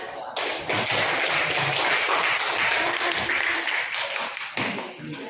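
Schoolchildren in a classroom clapping together, a dense, steady patter of many small hands sustained for about five seconds at close range, fairly loud, with a few sharper taps near the start and end.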